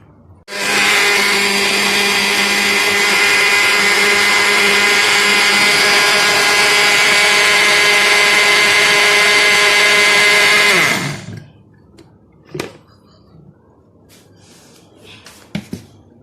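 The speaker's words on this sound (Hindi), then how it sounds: "अब मैं इसको करती हूँ ग्राइंड।" An electric grinder whirs loudly and steadily for about ten seconds while grinding ingredients for Pakistani qeema karela, then winds down, followed by a few faint clicks and knocks.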